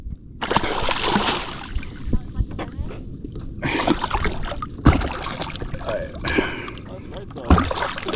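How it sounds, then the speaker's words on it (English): A fish splashes in the water right beside a fishing kayak on the West Coast, sharp sloshing bursts recurring through the stretch while someone talks over them. "Beautiful splash to wake me up in the morning."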